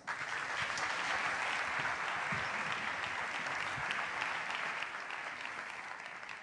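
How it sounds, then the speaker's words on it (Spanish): Audience applause after a speaker is introduced at a Spanish tech conference, steady dense clapping from a large crowd that holds for several seconds and begins to thin toward the end. "Un súper aplauso para Gema Muñoz."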